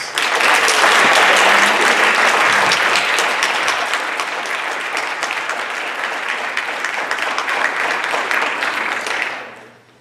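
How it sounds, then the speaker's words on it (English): A school board meeting audience breaks into loud, sustained congratulatory applause, a thick wash of many hands clapping at once that holds for about nine seconds before fading out. "if you'd like to give Jeff one more congratulatory round of applause"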